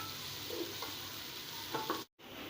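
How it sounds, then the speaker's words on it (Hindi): Onions frying in oil until golden, a soft steady sizzle close by with a couple of light utensil clicks, then a brief cut to silence near the end. "प्याज को हम गोल्डन कलर आने तक फ्राई करेंगे"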